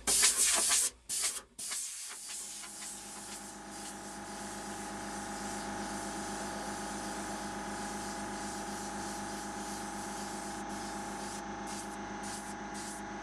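An airbrush sprays paint onto a T-shirt in a steady, close hiss that runs almost unbroken after a few short stops and starts at the beginning, with a faint mechanical hum beneath and no talking.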